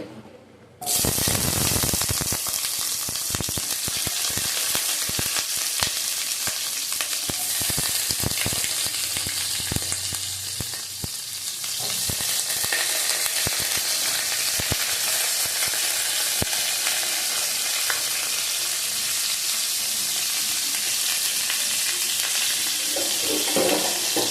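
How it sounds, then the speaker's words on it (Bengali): Salted pointed gourd fries in hot oil in a wok, giving a loud, continuous sizzle and crackle that runs almost the whole length, with frequent sharp pops and the scrape of stirring. No voices are heard. "ভালো করে ভেজে নেব। নুন মাখিয়ে রেখেছি, নুন দিয়ে ভেজে নিলাম।"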